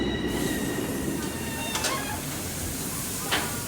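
S&S El Loco roller coaster Steel Hog at the Indiana Beach amusement park, a steady rumbling roar of the train on steel track with faint squealing, continuous and fairly loud throughout.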